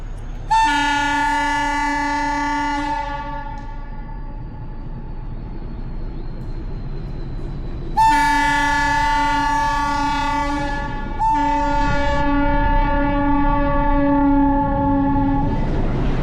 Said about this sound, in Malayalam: ഇതാണ് ഊട്ടിയിലെ മനോഹരമായിട്ടുള്ള ആ ഒരു ട്രെയിൻ